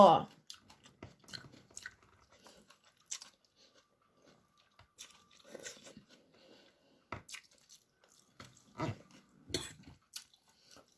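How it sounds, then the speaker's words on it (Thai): Close, wet chewing and soft crunching of Thai cucumber salad with pork, irregular bites scattered through a quiet room, with a voice speaking now and then. "ตอนนี้หนูกินได้ตั้มแตง หมู"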